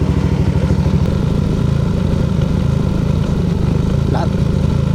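Yamaha NMAX 155 scooter engine idling while warming up: a loud, close, steady low-pitched putter with an even rapid pulse and light mechanical clatter, running continuously.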